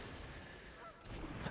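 Geese honking as a sound effect in the digital card game Magic: The Gathering Arena, faint, soft nasal honks over a low background hum.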